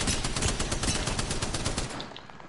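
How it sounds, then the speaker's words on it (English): Rapid automatic gunfire from a video game shooter, a dense, loud burst of closely spaced shots rattling without pause for over two seconds before tapering slightly at the end. "Are they shooting us? Yeah."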